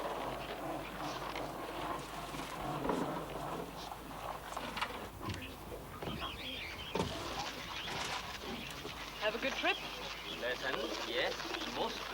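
Birds flutter and call in an enclosed space, with cooing and rustling wings, while people talk in the foreground.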